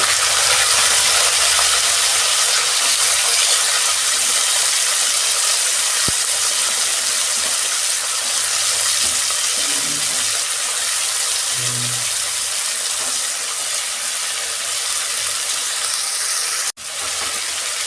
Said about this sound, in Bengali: তেল গরম হয়ে গেছে আমি এবার সবজিগুলো দিয়ে দিচ্ছি